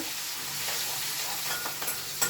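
Hissing, crackling sizzle of green chilies frying in hot oil, steady throughout with a few sharper pops near the end.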